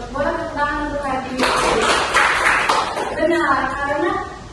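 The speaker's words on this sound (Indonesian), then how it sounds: "Boleh tepuk tangan untuk Hadi." A burst of clapping hands from a classroom audience lasts about a second and a half, set between stretches of talk.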